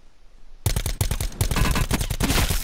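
Sudden loud bursts of automatic gunfire in Call of Duty Black Ops 4 Blackout, rapid shots starting after a quiet moment and continuing in close, dense volleys.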